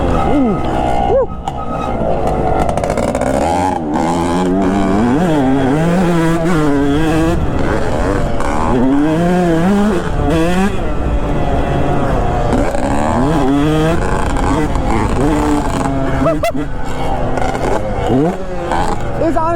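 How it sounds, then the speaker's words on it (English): A Honda CR500 two-stroke motocross bike ripping around a dry, hardpack, slick track, its engine rising and falling in repeated revving sweeps, loud and close, with a person talking throughout. "he's ripping around this motocross track on a CR500"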